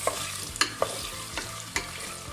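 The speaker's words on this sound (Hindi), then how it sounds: "अभी इसको हम करेंगे अच्छे से फ्राई।" Pan frying for aloo baingan sabzi, with a steady low sizzle under a handful of sharp scraping stirs of a spoon against the pan, close and fairly quiet.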